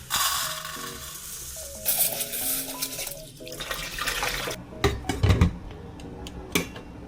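Cleanup at a kitchen sink with a running tap, steady water hiss and splashing mixed with clinks of dishes and utensils, close, ending in a few sharper knocks as the water stops.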